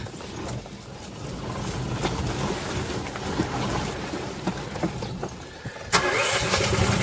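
A snowmobile engine swapped into a golf cart cranks and fires up in a garage, then settles into a loud, steady running rumble with a sharp surge near the end.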